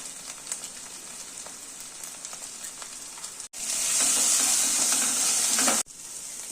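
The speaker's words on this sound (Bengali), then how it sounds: "এবার মশলাটা আমি ধীরে ধীরে আর অল্প আঁচে কষিয়ে নিচ্ছি।" Spice paste of turmeric, salt, chili powder and sugar frying slowly on low heat for a tilapia fish curry, with a steady close sizzle that swells into a louder, denser hiss midway before settling back.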